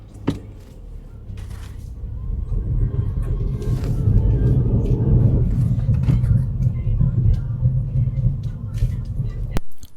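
A car pulls away from rest during a driving lesson mock test, its engine rumble building steadily and holding at a loud, close level inside the cabin, with a brief click near the end.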